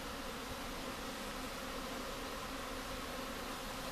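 Honey bees buzz around a beehive that has gone unchecked for years and is full of bees and honey, a dense, steady hum from many insects filling the air at close range.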